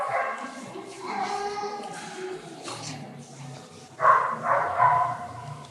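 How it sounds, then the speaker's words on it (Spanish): A small dog yips, whimpers and barks in short, high bursts during a church service, some cries fairly near and shrill, with a voice speaking around them. "calla ese perrito, por favor."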